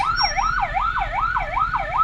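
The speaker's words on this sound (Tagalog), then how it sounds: "oh may pulis" A police siren on a road along Commonwealth, heard from a motorcycle: a fast, repeating wail that rises and falls in regular cycles, clear and fairly close over low traffic rumble.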